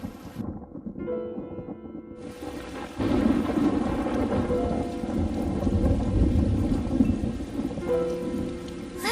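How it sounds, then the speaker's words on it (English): A thunderstorm in the video game Tales of Xillia 2 rumbles as heavy rain pours steadily, with a deep low roll swelling after a quieter opening and continuing under the downpour. "I hope there won't be any more thunder."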